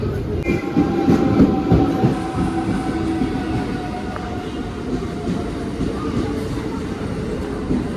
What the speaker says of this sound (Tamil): இது வந்து அன்ரிசர்வ் ட்ரெயின்